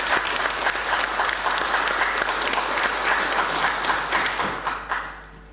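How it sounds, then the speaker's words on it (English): A seminar audience at the Messines Peace Park gives a dense, sustained round of applause that stays full and loud, then tapers off near the end. "And I think, Bert, you deserve a round of applause from everyone here in relation to what you've done for that."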